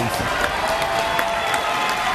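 Boxing crowd in Gatineau, Quebec, at the 2013 Ghislain Maduma vs Fermin de los Santos fight, cheering and applauding in a steady, loud roar of voices and clapping.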